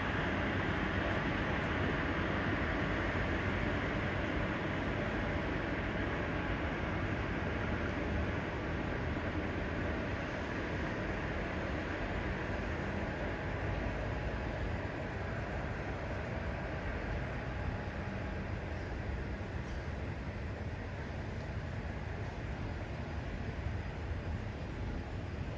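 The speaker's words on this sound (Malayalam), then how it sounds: "Mangaluru central Coimbatore junction intercity express" The Mangaluru Central–Coimbatore Junction Intercity Express passes at Nileshwaram station, a loud, steady, broadband rumble of rolling wagons and wheels on rails continuing unbroken and close for the whole stretch.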